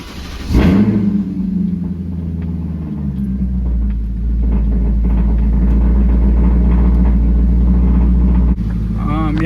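A BMW E39 540i with an M62 V8 and an 84mm throttle body upgrade cranks, fires and settles into a steady, loud, deep idle rumble that continues to the end.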